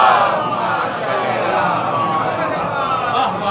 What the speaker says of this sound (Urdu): اتنا حسین نعرہ آپ نے لگایا